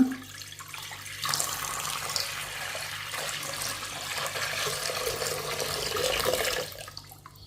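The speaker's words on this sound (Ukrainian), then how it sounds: "У горниць виливаю воду" Water pours steadily into a pot in one continuous gushing stream, rising slightly in pitch before cutting off near the end.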